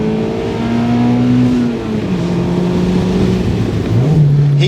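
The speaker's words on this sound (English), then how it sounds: "Oh, that is a zingy little engine, but it's quite a smooth, almost European sound." A Mazda MX-5 ND's small four-cylinder engine revs smoothly and steadily, its tone rising and falling through the gears, loud and close throughout with no voices.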